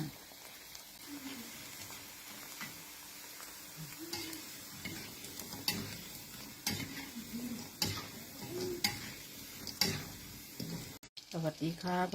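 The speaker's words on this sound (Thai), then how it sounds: "วันนี้มามาทำข้าวเหนียวตากแห้งทอดอีกแล้วนะคะ" Dried sticky rice frying in hot oil crackles and sizzles, with sharp pops and stirring clatter scattered over a steady bubbling hiss. Someone talks now and then over it, and a brief handling clunk comes near the end.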